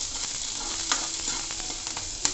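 Garlic and three or four green chillies sizzle and fry in a hot pan for a Manchurian dish, a loud, continuous hiss broken by a few crisp spikes as the pan is tossed.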